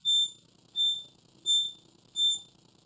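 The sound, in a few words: reversing alarm beeping on ride-on smart luggage scooter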